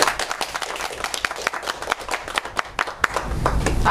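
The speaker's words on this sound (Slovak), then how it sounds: "poprosím potlesk" Studio audience on a Slovak television game show bursts into applause, dense clapping spread across the room, steady and fairly loud throughout with a rumbling swell near the end.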